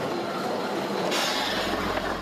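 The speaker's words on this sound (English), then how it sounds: "This train line has existed for over a century, built to transport lumber during Japan's occupation of Taiwan." The Alishan Forest Railway in Taiwan, a century-old mountain line first built to haul lumber, with a train running close by as a loud, steady rumble of wheels and carriages.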